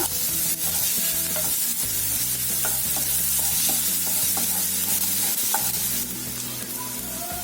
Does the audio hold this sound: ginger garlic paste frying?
yes